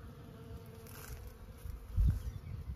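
Honeybees buzz steadily while foraging over a large flowering rapeseed field outdoors, a faint continuous hum with a brief louder swell as one passes near.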